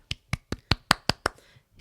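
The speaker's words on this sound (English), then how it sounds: "here's a little snap for those that like a snap" Seven crisp finger snaps in a steady, quick rhythm, close and clear against a quiet room, the last one trailing off faintly.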